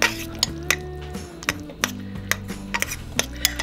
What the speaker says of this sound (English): time to break up the chicken and mix it all together. So I'm just going to use 2 forks, just like this.